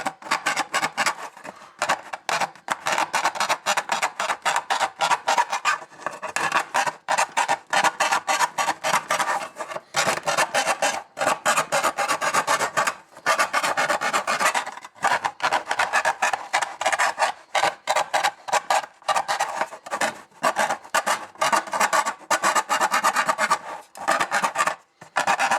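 Steady back-and-forth rasping of a hand file smoothing burrs from the edge of a freshly drilled antenna mount hole in sheet metal, close and continuous strokes with a few short pauses.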